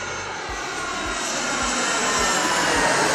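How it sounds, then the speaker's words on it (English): An airplane passes overhead in Loudoun County near Ashburn, Virginia, a loud, continuous broadband engine roar that slowly swells through the clip, with light rhythmic thumps underneath and no voices. "within 5 minutes, I'm gonna hear airplane noise that sounds just like this."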